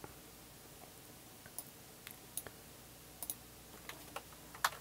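A few faint, sharp computer mouse clicks, scattered irregularly over a quiet background hiss while working in AutoCAD.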